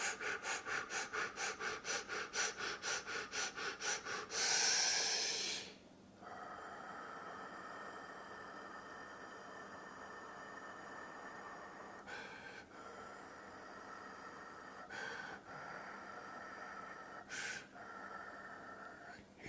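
Rapid fire breathing as an energy exercise: fast, rhythmic forceful exhales pumping steadily for about four seconds, a long drawn breath, then calm with a few isolated sharp sniffs or puffs, close to the microphone.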